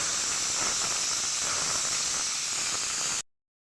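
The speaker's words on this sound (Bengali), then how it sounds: "এবার সেদ্ধ করে রাখা আলু দিয়ে দিচ্ছি, ভালো করে ভেজে নেব।" Boiled potatoes fry in hot oil in a pan, giving a loud, continuous hissing sizzle close up that runs unbroken and then cuts off abruptly.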